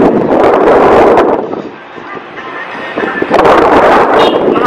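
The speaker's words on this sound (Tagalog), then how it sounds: "Mahangin dito." Strong wind blows outdoors at a sports arena in Sorsogon, Philippines, roaring loudly into the microphone in heavy gusts. It eases briefly in the middle, then buffets hard again.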